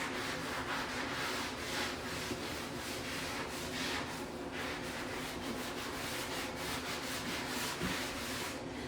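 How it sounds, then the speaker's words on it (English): A scrub brush rubs steadily back and forth over bathroom baseboards, giving a continuous, even, faint scraping hiss with no pauses. "I I just like to scrub around to loosen up all the dirt."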